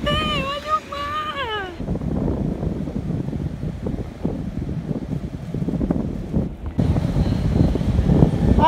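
Sea waves and wind at Atalaia beach in Salinas, a steady broadband roar of surf and gusting wind throughout, with children and adults talking excitedly over it near the start.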